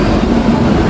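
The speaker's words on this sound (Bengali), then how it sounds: "শিয়ালদা থেকে আমাদের ট্রেন কিন্তু ছেড়ে দিল পরেশনাথের উদ্দেশ্যে।" Passenger train pulling out of Sealdah station bound for Parasnath, a loud steady low rumble of the moving carriages heard from inside, with no voices.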